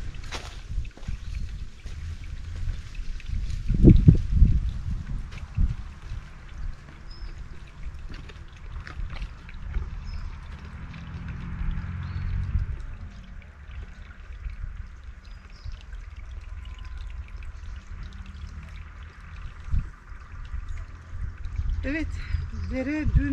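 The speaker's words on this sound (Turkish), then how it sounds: "Çünkü taşların arasından böyle geçerken o şırıltı oluşuyor." A small mountain stream runs and trickles between stones after rain, giving a steady low watery wash with a louder splashing burst early on, heard alone without talk.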